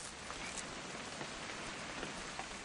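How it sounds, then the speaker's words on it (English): Rain in the video game What Remains of Edith Finch falls as a steady, even hiss on surfaces, soft and continuous with faint scattered drops and no voices. "It's gonna rain the whole weekend, isn't it?"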